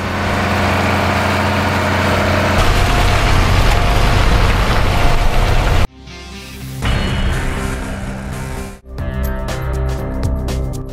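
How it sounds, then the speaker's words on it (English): A Ropa Keiler 2 potato harvester working in a field, with a loud, heavy engine drone and dense mechanical rumble that shifts character partway through, steady and close. "Rugged, reliable, and incredibly effective, the Ropa Keiler 2 transforms potato harvesting into a faster and smoother"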